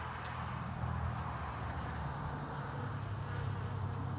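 Honey bees flying around a hive entrance on an early spring day, some carrying pollen, make a steady, close, continuous buzzing drone with no voices.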